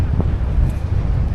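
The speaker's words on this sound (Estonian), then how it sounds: "Ikka korralikult tuul tõuseb." Strong wind rising over a lake during perch fishing on Saaremaa, roaring steadily and loudly into the microphone as a dense low buffeting rumble throughout, with no voice on top.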